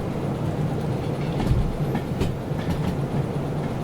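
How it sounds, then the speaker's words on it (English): A train in the railway simulation game Derail Valley slows down on the tracks, giving a steady, loud rolling rumble with periodic clickety-clack wheel beats throughout. "And oh no, our train's slowing down again."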